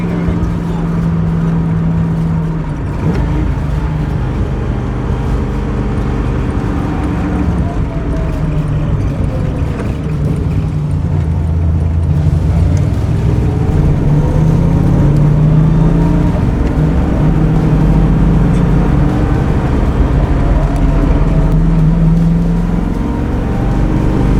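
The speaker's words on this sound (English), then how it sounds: "Gosh, this car sounds great too." A white 1965 Ford Mustang GT350 tribute fastback with a 289 V8 and four-speed drives along country roads, its engine a steady, loud low rumble that rises and swells as it accelerates throughout.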